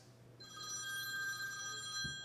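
A telephone rings with a steady electronic bell tone, fairly close and clear with no talk over it, during an evening setting at home.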